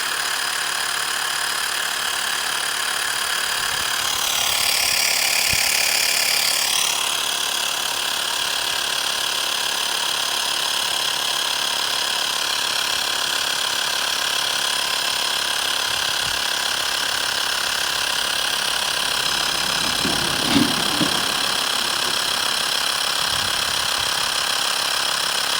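Xiaomi portable electric air pump set to 50 PSI inflating an inflatable paddle board, a loud, steady mechanical whine and drone running throughout with a brief louder swell early on and a small knock near the end.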